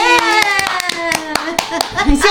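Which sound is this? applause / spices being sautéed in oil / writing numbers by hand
applause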